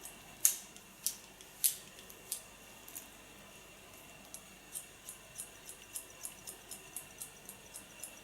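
Scissors snip hair in a deep point-cut technique on top of a woman's head, a string of crisp close metallic clicks, a few louder cuts at first and then a steady even run of lighter snips.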